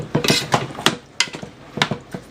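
A spoon stirs chicken pieces in a metal cooking pot, giving a series of irregular clanks and scrapes against the pot's sides, close and clear with no talking.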